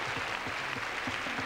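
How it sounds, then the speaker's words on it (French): Studio audience at a French television variety show clapping for a guest, a dense, even patter of many hands held at a moderate, distant level throughout. "On applaudit."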